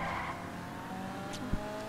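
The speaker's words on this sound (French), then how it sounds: "quand vous tournez comme ça, elle envoie quand même des drifts" An armored Karin Kuruma in GTA 5 drifting, its engine droning steadily under a sustained tire squeal, with a brief sharp knock near the end.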